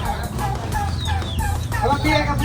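Native chickens cluck and call in short bursts over a low steady hum, close by, with faint voices mixed in.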